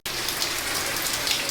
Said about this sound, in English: just raining.